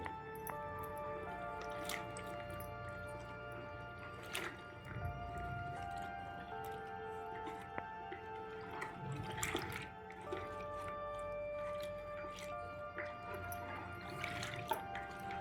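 Green chillies being mixed and turned by hand, up and down, for sun-dried curd chillies, giving steady close wet squishing and soft dripping sounds throughout with no talking.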